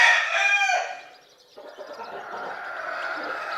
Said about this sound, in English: These speckled chickens, these speckled grays are good-natured chickens.